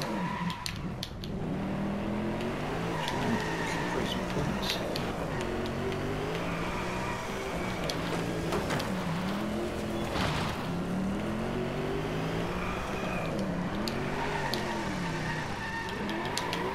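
A Hennessy Venom GT drifting in the racing game Driveclub on a Nakasendo, Japan course, its engine note rising and falling in long sweeping revs with tire squeal through a continuous, loud stretch and no talking.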